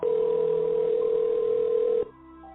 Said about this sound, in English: I'm going to get the phone ringing, and we're going to dial him up